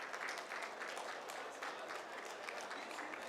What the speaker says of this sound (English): little louder claps would be great